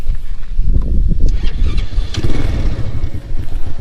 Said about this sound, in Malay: Kita dengarkan enjin dia.